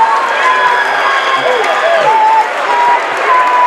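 High school boys varsity basketball crowd in a gym cheering wildly as the game ends on a final basket, loud sustained roar and shouts with sneaker squeaks on the court mixed in.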